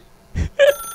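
A telephone in the video game The Stanley Parable gives one short electronic ring after a brief low thud, close and clear in an otherwise quiet room.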